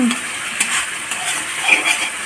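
Spice paste fries in hot oil in a pan for a radish dish, a steady, loud close sizzle and crackle with a few light stirring scrapes.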